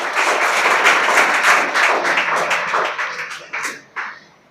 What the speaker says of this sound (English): Can we please have a big round of applause for Saim sir?